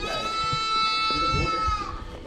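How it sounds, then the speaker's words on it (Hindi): Goats bleat loudly in a long, wavering cry at a livestock pen during Eid al-Adha sacrifice in Canada, with thuds and movement noises underneath. "ये बकरे हैं, बकरियाँ।"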